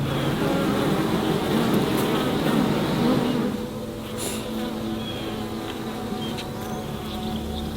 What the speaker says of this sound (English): So we're out here at the beehives.